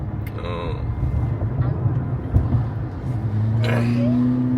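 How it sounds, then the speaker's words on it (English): A car engine idles with a low, steady hum that rises slightly toward the end, heard up close with faint background noise, just after its brakes and rotors were replaced. "engine just purring right there"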